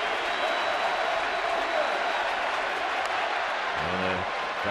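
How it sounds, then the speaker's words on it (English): A packed, sold-out baseball stadium crowd stands and cheers, a continuous broad roar of voices and clapping that holds steady throughout, with a brief louder voice near the end. "The sellout crowd right now on their feet."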